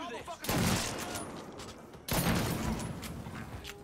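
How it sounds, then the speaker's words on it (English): Gunfire and an explosion in the video game Mafia III: two loud, dense bursts of rapid shots and blasts, each sustained for over a second, with no speech over them. "Oh my god, he exploded."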